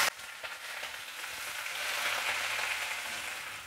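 Ginger, green chillies, coriander and vallarai greens sauté in a pan over medium flame, giving a steady, close hiss and sizzle with no voices.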